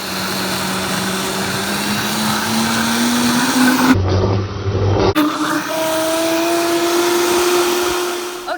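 A high-power blender runs continuously on ingredients for Mexican red rice, a steady loud whirring drone that rises slowly in pitch, briefly cut off midway before resuming, with no talking.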